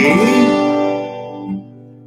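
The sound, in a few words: acoustic guitar chords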